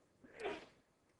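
A single sneeze from someone in a university evidence lecture hall, short and fairly distant, rising out of quiet room tone and fading within half a second.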